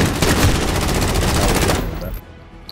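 Rapid automatic gunfire from Call of Duty: Modern Warfare, dense bursts of loud close shots filling the first two seconds before cutting off abruptly into quieter game ambience.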